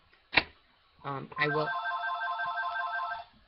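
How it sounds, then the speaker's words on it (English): A telephone rings with a warbling electronic tone, one short burst and then a longer sustained ring, clear and close, after a brief clack and a short spoken sound. "The phone's ringing."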